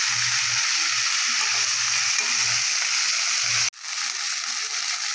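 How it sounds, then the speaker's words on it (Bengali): Steady hiss of food frying in hot oil, loud and close, with a brief dropout near the end before the sizzle resumes. "হালকা করে হালকা লাল আমি একটু ভেজে নেব"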